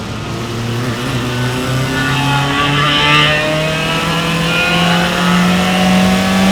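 Single-seater race cars in an SCCA race at Mid Ohio roar past on the track, one engine note climbing steadily in pitch as it accelerates close by under a constant loud drone, with no voices.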